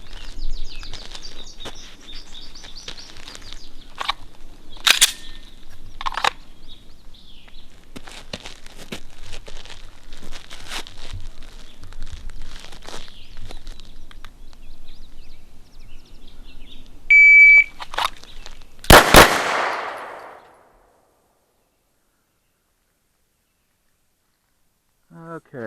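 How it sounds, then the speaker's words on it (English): A SIG P250 pistol fired from the hip in controlled pairs at an outdoor range: a shot-timer beep, then two loud, close, cracking shots in rapid succession, with background noise dropping away to near silence afterward. "now we're going to work with the 250. from the hip using a shot timer and firing controlled pairs"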